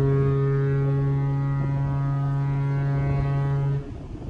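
A ship's foghorn sounds in thick fog in the Strait of Gibraltar, one long, loud, steady deep blast that holds for nearly four seconds before cutting off, leaving a low rumble of the ship underneath.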